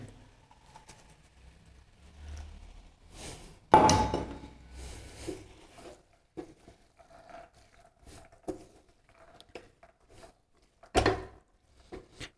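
Green peas tip into a pan of keema: a brief loud clatter and rustle as they land, followed by scattered softer knocks and scrapes, with a second sharp clatter near the end in an otherwise quiet kitchen.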